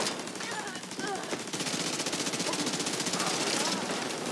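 Rapid automatic gunfire in Tom Clancy's The Division 2 on Pier 26, a sustained fast rattling burst of shots close and loud, with a player talking over it.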